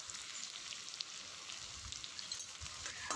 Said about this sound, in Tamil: அதனால் சின்ன வெங்காயத்தை சேர்த்து வதக்கி கொடுத்துக்கலாம்